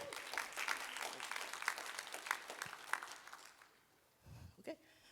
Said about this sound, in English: So please, round of applause.